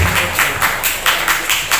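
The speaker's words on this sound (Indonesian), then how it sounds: "Tepuk tangan untuk Bumdesma Desa Karya Mandiri." Short burst of audience applause at a village-owned enterprise (BUMDesma) accountability meeting, several pulsing waves of clapping, fairly close and alone.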